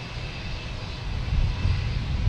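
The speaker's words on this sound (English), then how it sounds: "We got a plane there flying by the moon." A fixed-wing airliner passes overhead near Boston Logan Airport at night, a steady distant engine roar that swells slightly louder toward the end, with no talking.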